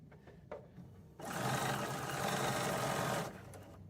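A Bernina 735 sewing machine stitches a seam in one steady, loud run of about two seconds, starting and stopping abruptly, with quieter handling sounds before it.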